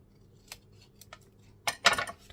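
Scissors cut out paper for a handmade Stamperia Wonderland journal, a few soft close snips and then a louder crisp burst of cutting near the end, with no voices.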